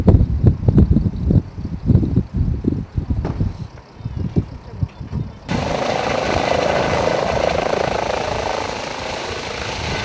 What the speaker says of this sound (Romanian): în ajutor a fost chemat un elicopter SMURD.